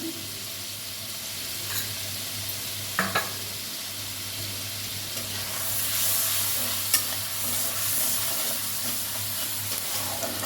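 Turmeric, salt and spices for a thin rohu fish curry are sautéed in oil in a pan, with a continuous sizzle, occasional spatula scrapes and clicks, and a steady low hum.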